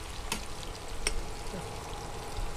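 Eggplant slices fry in hot oil for shakshuka in a home kitchen, giving a soft, steady sizzle broken by a couple of brief sharp clicks, quiet and without talk.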